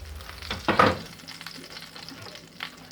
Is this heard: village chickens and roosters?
no